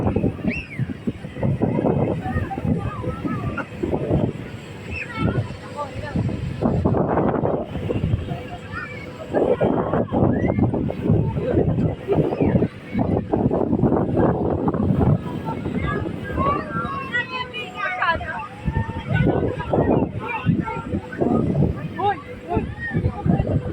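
Strong outdoor wind buffets the microphone in gusting, rumbling bursts while several people talk over it.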